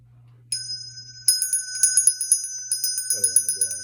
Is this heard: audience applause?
no